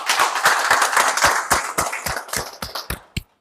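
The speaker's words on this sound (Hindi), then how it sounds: "तो एक दूसरे के लिए फिर एक बार ताली बजाएंगे हम लोग" Attendees at a MAPEI tile adhesive contractors' meeting in Bilaspur clap in a fairly regular, crisp rhythm. The claps sound close and loud, then thin out and slow to a few final claps before stopping.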